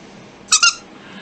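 A squeaky dog toy gives a quick double squeak, two short high-pitched bursts in close succession against a quiet room background.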